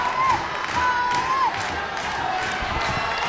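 Farmington fans cheer for their wrestler at a Simsbury High School senior night wrestling match, a loud, continuous crowd roar with shouting voices and a few whistles carrying across the gym.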